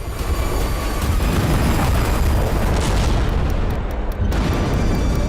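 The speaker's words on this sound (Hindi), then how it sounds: "इजराइल की सेना ने बीते 24 घंटे में गाजा पर ऐसी बमबारी की है" Heavy rolling booms from bombing in Gaza merge into a loud, continuous rumble, with a brief dip before the roar resumes.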